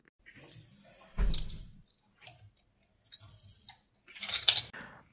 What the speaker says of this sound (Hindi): लहसुन और हरी मिर्चों को चॉपर में डाल के चॉप करना है